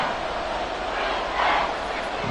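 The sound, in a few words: Arrowhead stadium crowd noise in Madden 23 video game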